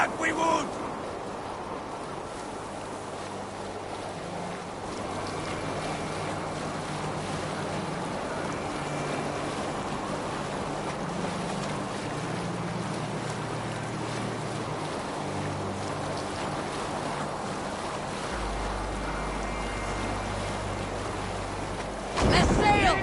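A Viking longship pushes through fjord waves in Assassin's Creed Valhalla, with a steady wash of water and wind under a low droning musical score and occasional character voices.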